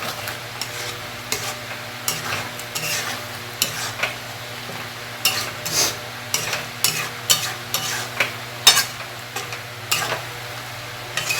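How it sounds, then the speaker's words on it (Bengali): Shrimp cook with spices and a little water in a pan, a steady low sizzle broken by frequent scraping, clattering stirs of a utensil against the pan. "এবার সমস্ত কিছু একসঙ্গে, সমস্ত মশলার সঙ্গে চিংড়িটাকে একটু কুক হতে"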